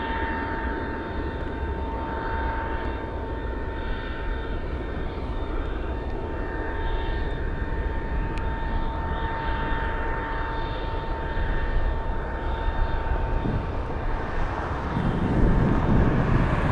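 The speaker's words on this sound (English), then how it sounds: "let's go over to the Cessna 441 Conquest flying in from Fairbanks" Cessna 441 Conquest turboprop flying in at Anchorage on a gusty day, its engine roar steady and fairly loud throughout and building toward the end, with wind buffeting the microphone.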